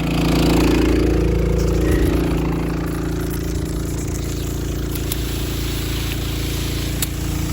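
A tractor engine idles steadily nearby, a low constant drone with a faint rise and fall early on, alone without talking.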